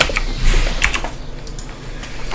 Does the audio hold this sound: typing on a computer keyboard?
yes